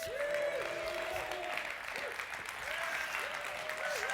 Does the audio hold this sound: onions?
no